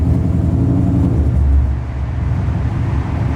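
A straight-piped Ford Mustang with carbon fiber parts drives along, its raw exhaust a loud, close, rumbling drone with throaty low pulses that swell briefly and then settle into a steady cruise, with no voices.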